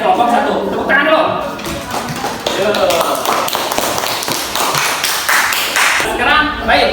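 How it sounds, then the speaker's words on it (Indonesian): A classroom audience claps for group 1 after their presentation in a teaching practice session, steady close applause of many hands lasting throughout, with voices mixed in. "Tepuk tangan dulu."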